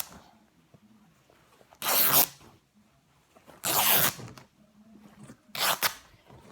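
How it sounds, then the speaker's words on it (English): Denim jeans torn open along the hem by hand, three loud rasping rips of about half a second each, separated by quiet pauses. "The jeans will rip open."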